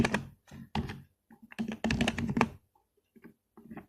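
Fingers type on a computer keyboard in quick bursts of clacking keystrokes, close and clear, with short pauses between runs.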